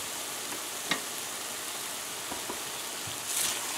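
Stewed cabbage gets stirred in a pot, with a soft steady sizzle and a few light scraping clicks of the spoon, close and quiet, with no talking.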